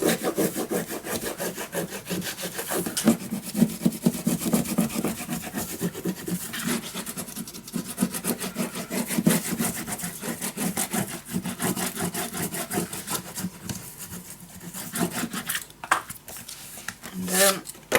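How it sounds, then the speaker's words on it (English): Paper being burnished flat for a handmade Cozy Winter mini album: a close, continuous dry rubbing and scraping with quick back-and-forth strokes that carries on steadily, pausing only briefly near the end. "I'm gonna burnish it down."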